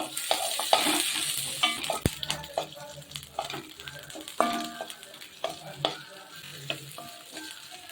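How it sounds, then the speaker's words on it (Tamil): Coconut, curry leaves, coriander and chilies sauté in a pan for urad dal chutney, with steady frying sizzle and repeated clinks and scrapes of a spoon stirring, close and moderately loud, no talking. "கொத்தமல்லியெல்லாம் போட்டுக்கலாம் தேங்காய் கருவேப்பிலாம் போட்டு அப்படியே ஏற்ற வதக்கி வச்சுக்கலாம் கூடவே மிளகாயும் போட்டுக்கலாம்"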